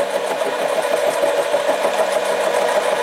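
A Harbor Freight 7x10 mini lathe cuts a 304 stainless steel bolt with a steady, close-up mechanical whir and a faint chattering rhythm from a cut taken too heavy.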